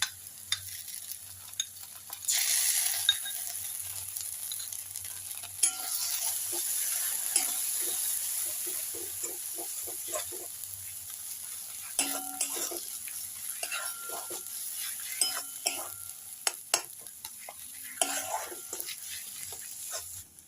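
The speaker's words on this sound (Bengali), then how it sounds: "ছটা গোটা কাজু আর 1 চামচ চারমগজ পেস্ট করে রেখেছিলাম, সেটা দিয়ে দেব।" A paste of cashews and melon seeds is stirred and fried in oil in a pan for a Bengali dhokar kalia curry, giving a steady quiet sizzle broken by repeated scraping and stirring clicks. There is no talking.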